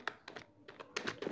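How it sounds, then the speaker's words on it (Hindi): Computer keyboard typing into a Chrome browser search box: three quick bursts of close, crisp key taps with short pauses between them, no voices. "हमें सर्च बॉक्स पर टाइप करना है"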